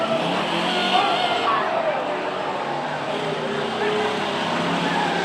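Race cars at a dirt speedway slide sideways through a turn, a steady loud roar of engines and skidding tires filling the whole stretch, with an announcer talking over the action.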